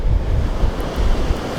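Surf crashes on a beach of ordinary coloured sand while a 15–25 knot wind buffets the microphone, a loud, steady roar of waves and rumbling gusts.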